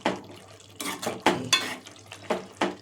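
Brinjal, potato and tomato curry being mashed in a pot over a low flame, with a handful of soft, wet squelching presses spaced irregularly through a short stretch and no talking.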